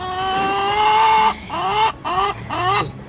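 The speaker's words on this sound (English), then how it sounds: "Introduced three new hens to our flock." Homestead hens, including three newly added to the flock, cluck and squawk close by in several drawn-out, agitated calls, one long cry followed by shorter bursts.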